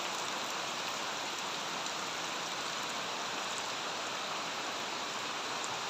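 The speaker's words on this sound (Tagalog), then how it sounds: "Grabe, super ulan" Dense, steady downpour hissing without a break in Bicol, Philippines, close and full, with no voices.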